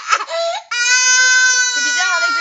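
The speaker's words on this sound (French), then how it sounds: "Si vous entendez quelqu'un pleurer, c'est normal." A baby cries loudly and close by in a sustained, high-pitched wail with a brief break early on, then a long unbroken stretch of crying.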